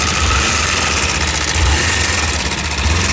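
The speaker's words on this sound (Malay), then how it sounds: "Bila kau rem, dia bunyi rattle." An idling Modenas Ninja 250RR motorcycle engine runs loud and close with a steady, fast cam chain tensioner rattle layered over its low throb.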